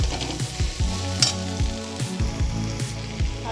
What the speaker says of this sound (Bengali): আলুটা মোটামুটি ভাজা হয়ে এসছে আমার